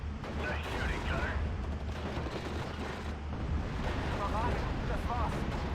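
Gunfire from the World War II strategy game Steel Division: Normandy 44 rattles in distant bursts beneath a low rumbling battle backdrop, with radio-style voices talking over it.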